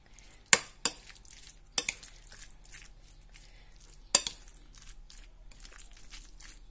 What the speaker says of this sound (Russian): Очень-очень хорошо перемешиваем.